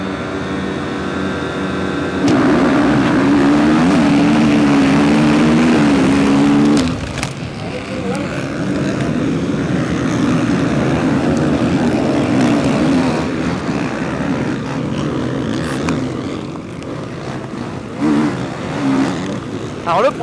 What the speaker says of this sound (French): je vais vous montrer ce que c'est qu'une course dans la boue